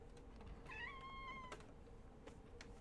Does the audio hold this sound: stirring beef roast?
no